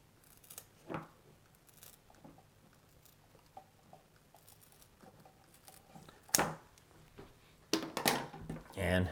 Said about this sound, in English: you take a pair of heavy duty scissors, my Leatherman Raptors in this case, and you cut it